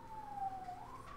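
A siren wails outside a home set among trees, faint and distant, its single steady tone sliding slowly down and then back up over about a second, with no voices.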